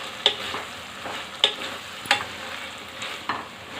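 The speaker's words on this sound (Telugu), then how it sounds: "మధ్య మధ్యలో ఈ విధంగా కలుపుతూ ఉండాలండి." A broad beans and fenugreek-leaf curry is stirred in a pan: a few sharp scraping strokes recur every second or so over a steady low sizzle, close and without talk.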